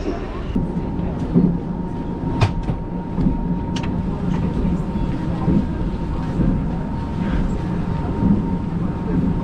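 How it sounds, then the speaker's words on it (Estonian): A night train rumbles at Bangkok railway station, a loud steady low mechanical drone with a sustained whine and occasional clanks, with voices talking over it. "Lähme öörongiga Chiang Maisse."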